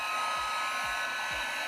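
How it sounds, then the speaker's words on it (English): A generic handheld heat gun runs steadily on its low heat setting, giving a constant, close, even whooshing blower noise with a few faint low thumps. "the heat gun that I've got is this one. It's just a generic. It does have a setting to turn it to low."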